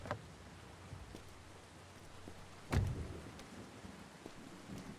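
Steady rain and a sharp nearby thunderclap in the video game Beyond: Two Souls; the downpour hisses faintly throughout and the single crack of thunder rolls out near the middle, with no voices.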